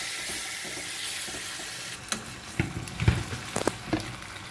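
Pork belly fries in its remaining marinade with a steady close sizzle, then a run of louder stirring knocks and scrapes with bubbling spatters in the second half.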